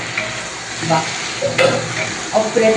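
Roasted chilies and crushed garlic are stirred into eggplant bharit frying in a pan, with steady sizzling and intermittent scraping stirs up close.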